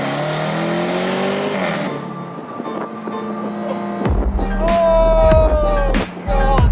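An SVR car engine revs hard through downshifts, close and loud, with sharp throttle blips and rising, falling pitch sweeps that end in a rhythmic, pulsing burble.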